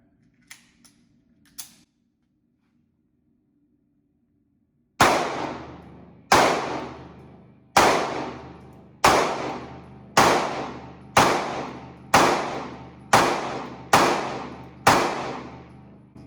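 Ten sharp shots from a SIG P365 SAS pistol ring out at a steady, roughly one-second pace after a few faint clicks and a pause, each crack loud and close with a short ringing decay.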